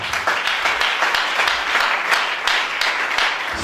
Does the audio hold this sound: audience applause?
yes